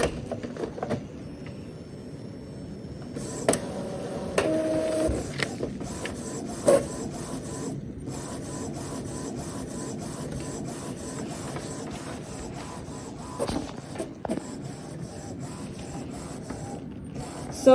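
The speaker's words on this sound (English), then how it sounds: "And then it's printing." An Epson EcoTank ET-2803 inkjet printer running an A4 page, its print head shuttling with mechanical whirs and clicks at close range, steady throughout with a few sharper clunks.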